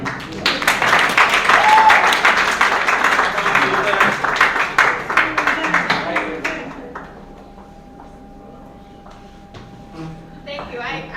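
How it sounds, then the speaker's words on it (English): An audience at a New Year celebration and opening ceremony claps loudly for several seconds, the applause thinning and fading out as a voice begins to speak. "Give her a big round of applause."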